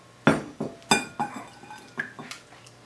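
Scattered clinks and taps of a spoon and glass dish as fire-roasted tomato salsa is moved from a blender into a bowl, several sharp knocks followed by softer scrapes, close and quiet with no talk.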